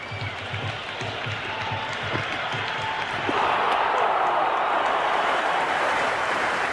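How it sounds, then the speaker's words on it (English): A large cricket crowd at an India versus Pakistan T20 World Cup final cheers and applauds in a dense, steady roar. The roar swells noticeably partway through, with faint talk mixed into the noise. "It's evident and ever so audible that the crowd is at near bursting point at today's play"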